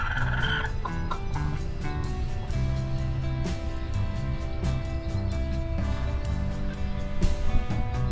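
Young rooster crowing hoarsely among a flock of chickens, a rough, unfinished crow rising over steady clucking and flock noise, fairly close with no talking.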